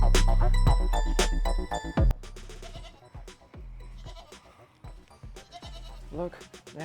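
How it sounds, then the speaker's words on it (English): Goats bleat several times in short, wavering cries, some close and loud, with voices talking nearby. "Goats."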